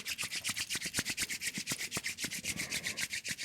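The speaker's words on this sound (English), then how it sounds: "when you feel it, rub your hands" Palms briskly rubbed together, a fast, even train of soft swishing strokes, several per second, close and clear with no voices.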